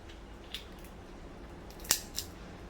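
Kitchen scissors snipping through the head of a raw prawn, three short crisp clicks, the middle one loudest, close and alone in a quiet room.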